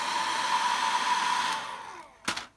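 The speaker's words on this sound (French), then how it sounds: "Je vais mettre un tout petit coup de sèche-cheveux." Hair dryer blowing on watercolour paper during painting of a rose, a loud steady whoosh that fades out after about two seconds, followed by a brief clatter.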